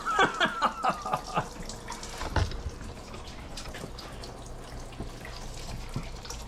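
Coolant spilling out of a 1995 Mercedes E320 3.2L inline-six engine block during teardown, a gushing, splashing pour of liquid that trails off into a steady trickle into a tray, with brief talk at the start.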